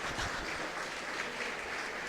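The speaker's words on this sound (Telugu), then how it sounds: "చాలా తక్కువగా చప్పట్లు మోగుతాయి నాకు తెలుసు" Scattered applause from a lecture audience, a faint, thin patter of clapping hands heard from a distance.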